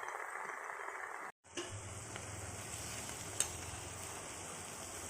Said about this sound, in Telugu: కొత్తిమీర యాగ్రన్నీ బాగా ఫ్రై చేసుకోవాలి మరి హై ఫ్లేమ్లో కాకుండా మీడియం ఫ్లేమ్ మీద బాగా